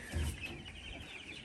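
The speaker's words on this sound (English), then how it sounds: "Now we got some happy chickens." Chickens cluck softly nearby, a low murmuring flock with a few brief clucks over a hushed background.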